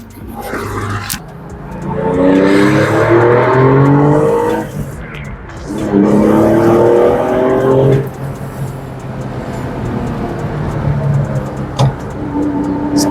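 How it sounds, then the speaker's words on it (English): A lowered car pulls away and its engine revs hard in two long roaring pulls, close and loud, then settles into a steady driving drone. "Let's go for a drive"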